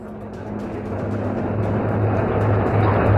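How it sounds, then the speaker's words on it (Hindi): Two Indian Army ALH Mark 4 Rudra weapon-system-integrated helicopters fly overhead at Pokhran, a steady broad rotor and engine roar with a low hum, swelling slightly louder as they approach, with no talk. "ये थल सेना के दो एडवांस लाइट हेलीकॉप्टर या ALH Mark 4 weapon system integrated, जिसे रुद्र कहते हैं।"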